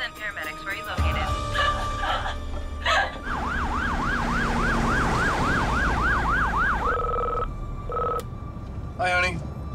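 An ambulance siren wails loudly with a fast rising-and-falling yelp, then shifts to steady held tones and quick bursts, over a low rumbling vehicle and noisy background.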